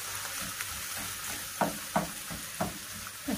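Onions sauté in a pan with a soft, steady sizzle, punctuated by a handful of light knocks spaced about half a second apart, heard close with no talking.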